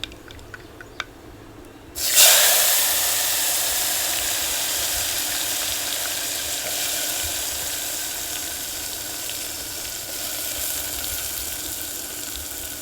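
Onions hit hot oil seasoned with asafoetida for a rajma dish, setting off a sudden loud hiss after a quiet start that then settles into a steady, gradually easing sizzle.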